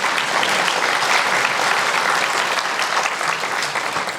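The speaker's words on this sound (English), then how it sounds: "A round of applause for her" Sustained applause from an audience at a continuing education achievement ceremony, dense and steady throughout, with no talking over it.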